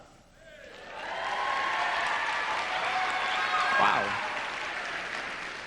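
A large audience applauds at a live stage show, the clapping swelling quickly into a sustained loud roar with a few cheers while someone speaks briefly over it.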